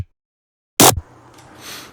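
A short cut portion of a Virtual Riot Pack dubstep sample hits once as a loud, sharp burst, followed by a faint, low-level tail that swells slightly toward the end.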